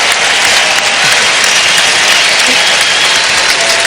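Fans at a college basketball game between North Carolina and UNC Asheville applaud in a loud, sustained roar of clapping and crowd noise that stays steady throughout, with no voices standing out.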